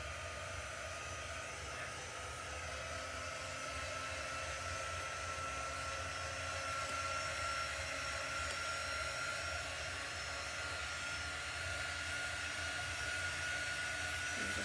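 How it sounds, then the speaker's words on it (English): A handheld heat drying tool blows on freshly applied chalk paste in a craft project, giving a steady, close whirring rush that holds unchanged throughout with no talk. "I'm going to hit it with my dry tool."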